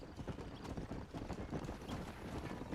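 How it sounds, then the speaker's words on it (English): Horses' hooves clip-clop steadily and close in a Red Dead Redemption race scene, a dense overlapping gallop patter over faint wind noise, with no talking. "Look at these here horses."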